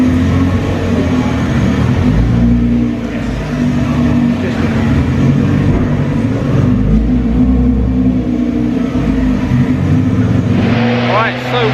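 A Nissan GT-R R35 fitted with an Armytrix exhaust runs on a dyno, a loud, steady engine drone holding close and constant throughout, with a brief rising rev near the end.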